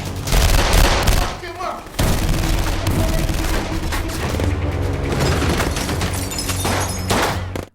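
Dense gunfire in a film shootout roars almost continuously, rapid bursts and booming shots piling up loudly, with a brief lull near the start and some shouting mixed in.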